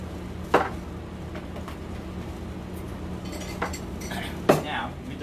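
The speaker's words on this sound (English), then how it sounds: "we will stir it." Cocktail being stirred with a bar spoon for a doubled recipe with simple syrup, giving light clinks and tinkles of metal against glass, with a couple of sharper clinks over a steady room hum.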